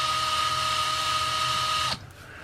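A power drill bores steadily into a custom chef's knife handle, a loud continuous high whine that holds for about two seconds, then cuts off abruptly as the drill stops.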